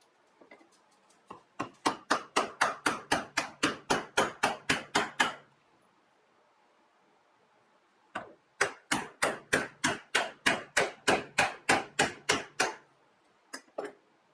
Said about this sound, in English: it's a press fit again with your non-marring mallet